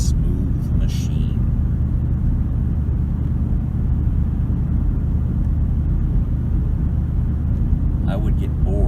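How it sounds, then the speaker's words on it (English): Steady, smooth engine and road rumble inside a 2008 Ford Expedition while driving, constant low drone throughout with brief faint clicks near the start and end. "I'd rather hear my engine all the time to know that everything's good, everything's well tuned, a nice smooth machine."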